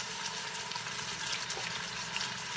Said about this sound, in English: As you can hear it just sizzling away.